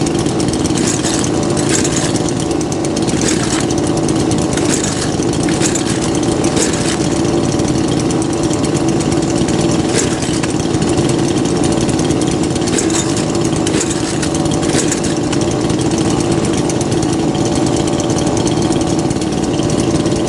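A 58cc chainsaw's two-stroke engine runs steadily and loudly up close for about twenty seconds, a constant rough idle with no pauses.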